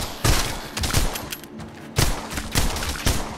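Gunfire in the zombie-survival VR game Arizona Sunshine (The Damned DLC): rapid bursts of shots, several close, loud volleys spread over a few seconds with short pauses between them.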